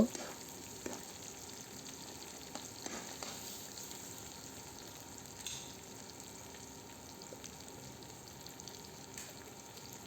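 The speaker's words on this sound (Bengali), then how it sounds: "একটা ডিম দিয়ে দিলাম ডিমটা দিয়ে কিছু সময় নেড়ে চেড়ে এটাকে কমপ্লিট করে নেব" An egg fries beside noodles in a pan, giving a soft, continuous low sizzle with scattered light scrapes and taps from stirring.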